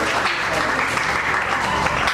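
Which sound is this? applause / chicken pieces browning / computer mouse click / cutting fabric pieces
applause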